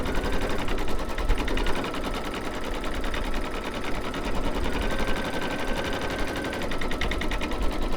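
An embroidery machine stitches a double line around a quilted baby bib in the hoop, a steady rapid mechanical chatter that runs loud and unbroken throughout with no talking.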